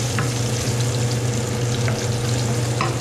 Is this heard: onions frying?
yes